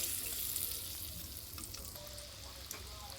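Chicken pieces for KFC-style fried chicken frying on low heat in hot oil, a faint steady sizzle with scattered small pops and a low background hum.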